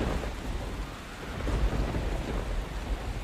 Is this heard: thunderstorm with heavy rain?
yes